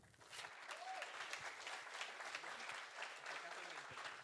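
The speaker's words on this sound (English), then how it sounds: "A big applause." Steady applause from a crowd, dense clapping filling the room throughout without pause.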